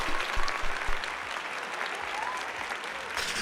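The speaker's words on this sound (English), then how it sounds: "That deserves applause." Applause from a small crowd during a livestream, steady broadband clapping throughout with a few louder claps near the start, sustained at moderate level with no clear talk over it.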